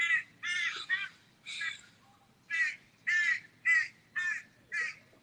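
Crows caw in a steady series of about nine harsh calls, some grouped in pairs, loud and fairly close with nothing else around.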